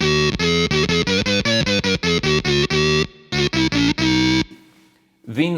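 Red Witch Synthotron III synth pedal voice set to a major second or minor sixth, playing a rapid run of about a dozen short, distorted, buzzy synth notes, then a few more after a brief gap, ending in a fading tail.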